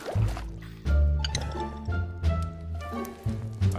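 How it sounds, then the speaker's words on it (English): Water flowing and splashing in Minecraft VR, a steady liquid pouring and gurgling with some drips, close and fairly loud with no talking. "There's water."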